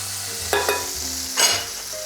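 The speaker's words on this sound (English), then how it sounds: "Beautiful color, so now we can turn." Chicken breast sears in a hot pan with a steady, close sizzle, broken by two brief bursts of louder crackle as the meat is handled and turned.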